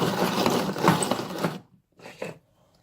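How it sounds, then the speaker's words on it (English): A hand pepper grinder cranks over black pepper, a dense gritty burr for about a second and a half, then a shorter second twist after a brief pause, close up. "And then I'm just gonna grind the pepper."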